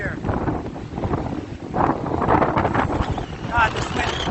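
Brutal, gusting wind sweeps across a saddle on the Ajusco volcano near Mexico City. It buffets the mic in a loud, continuous roar that surges and dips over a few seconds.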